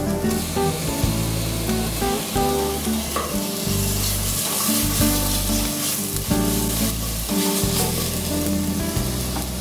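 Tomatoes frying in an oiled pan while a biryani is being prepared, giving a loud, continuous sizzle and crackle with faint stirring, and no voices.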